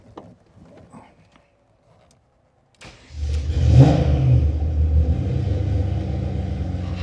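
Faint murmuring, then silence, before a Ferrari Testarossa engine under restoration cranks and roars to life with a loud surge, settling into a deep, steady idle.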